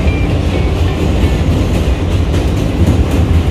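A New York subway train rides along with a loud, continuous rumble and rattle of the cars, steady throughout with faint clicks and squeaks on top and no talking.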